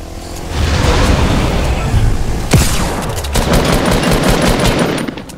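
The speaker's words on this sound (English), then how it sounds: "Is there a guy shooting at you?" Rapid gunfire bursts in a first-person shooter video game, loud and dense for most of the stretch, with one sharp louder shot near the middle.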